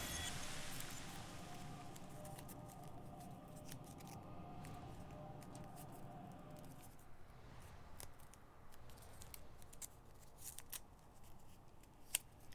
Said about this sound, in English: If you hear any paper sounds, my apologies. I am folding origami cranes